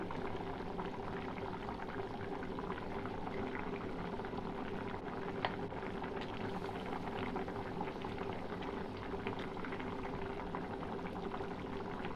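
Fish curry with coriander leaves simmering in a pot, a steady close bubbling boil with soft continuous liquid churning throughout, no voices.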